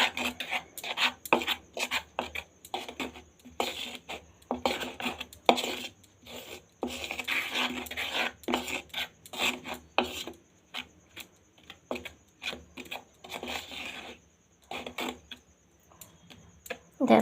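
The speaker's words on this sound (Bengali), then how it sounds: "এবার আমি মশলাগুলো সব মিশিয়ে নিচ্ছি।" Spices get mixed together by hand, with repeated dry rasping rubs in uneven bursts and short pauses between them. They sound close and moderately loud, with a voice speaking briefly in places.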